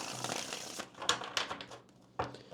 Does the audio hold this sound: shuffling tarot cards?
yes